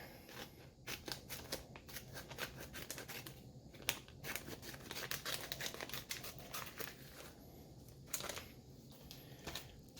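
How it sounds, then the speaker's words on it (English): Scissors snipping through a sealed plastic bag holding a wound dressing, a run of close, crisp crinkling cuts and rustles repeated through the whole stretch. "So I'm just cutting it while it's in the bag."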